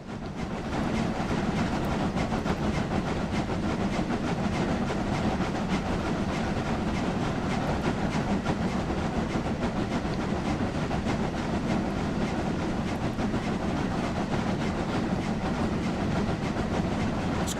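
A train runs along the Brocken railway with a constant rolling rumble and a rapid clatter of wheels on track, steady and fairly close for the whole stretch, with no talking.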